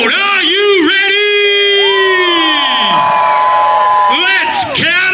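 At the Meatstock loaded fries eating contest, a crowd whoops and cheers in long, rising shouts that swell, dip briefly, then break out again in loud bursts.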